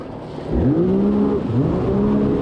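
A 2025 Yamaha JetBlaster jet ski engine revs hard during a wheelie on the water, the pitch climbing steadily, dipping briefly, then rising again in a loud, continuous roar with no talk.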